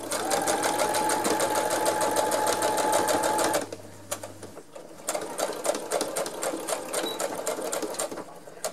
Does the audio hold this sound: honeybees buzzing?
no